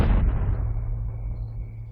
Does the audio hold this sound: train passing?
no